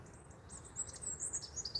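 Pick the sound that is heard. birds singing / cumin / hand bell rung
birds singing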